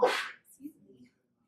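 A single sharp sneeze bursts out close by, followed by a brief soft murmur of talk that quickly fades to silence.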